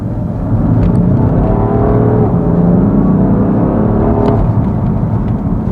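BMW F80 M3 engine pulling under moderate acceleration in efficient mode, a loud, steady interior drone that rises gently in pitch over several seconds, no talking.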